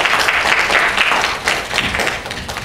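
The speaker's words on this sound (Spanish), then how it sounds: "Un aplauso para el profesor," University audience applauding a visiting professor before a lecture on analysing opinion and voting-intention polls: a moderately loud, dense patter of many hands clapping in a hall, with some uneven thumps and no speech.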